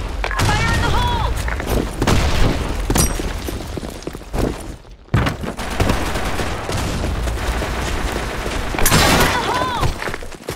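Game battle in BlackShot: a grenade blast and sustained automatic gunfire, loud and dense with booms and rapid shots, a brief lull midway, then more firing and another burst; voices shout over the action.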